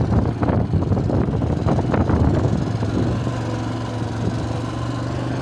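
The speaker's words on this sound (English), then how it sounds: "get to a certain RPM, there you go, change up, second gear" A Honda Foreman 400 ATV engine roars loudly up close with wind buffeting the microphone, its rough revving then easing into a steadier, humming drone after a few seconds.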